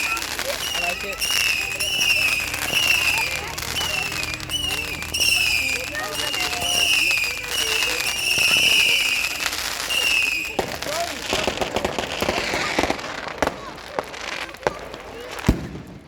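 Bonfire night fireworks whistle upward again and again, then crackle and pop as they burst. Nearby voices talk and exclaim throughout.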